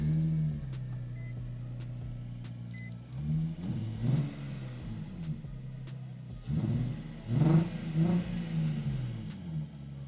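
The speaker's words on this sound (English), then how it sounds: "on acceleration, it bogs down a little bit" A Nissan 350Z fitted with new coil packs idles with a low rumble, then accelerates in two separate surges whose engine note swells and wavers unevenly, as if bogging down, with no talking heard.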